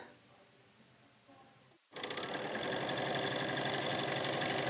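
Quiet room tone gives way to a sewing machine stitching quilt pieces, a loud, rapid, steady mechanical whir and needle chatter that starts abruptly and runs to the end.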